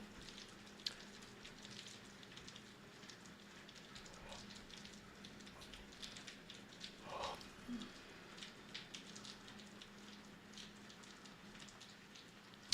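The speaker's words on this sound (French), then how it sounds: "il pleut, les gars, il pleut fort." Steady rain patters densely and continuously, a constant wash of drops with no voices, fairly soft overall.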